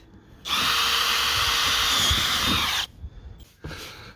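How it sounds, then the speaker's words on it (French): A power drill bores holes through the wooden deck of a C&C 36 sailboat for cleats and winches, giving a loud, steady whine for about two seconds that stops abruptly, followed by a couple of short, fainter bursts. "On a fait les trous pour les taquets coinceurs, les winches, les organisateurs de pont."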